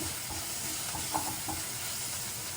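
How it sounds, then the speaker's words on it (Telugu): Ginger and green chilli paste fries with onions in a pan for an amaranth and moong dal curry. The sizzle is soft but constant hiss, with a faint stir near the middle and no talking. "ఈ అల్లం పచ్చిమిరపకాయ ఉల్లిపాయలు అన్నీ వేగేటట్టు చూసుకొని"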